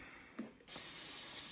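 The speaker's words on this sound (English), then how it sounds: "Spray it." Cooking spray from an aerosol can misted onto a pan while making pancakes: a few faint clicks and taps, then a sudden steady hissing spray that runs close and continuous to the end.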